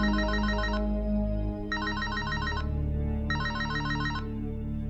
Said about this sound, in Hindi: तभी आपका फ़ोन रिंग करता है।